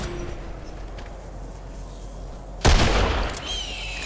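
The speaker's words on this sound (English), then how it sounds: "They're shooting us." Gunfire in Fortnite during a ranked match, a sudden loud burst of shots after a quiet stretch, then a fading tail, with no talk over it.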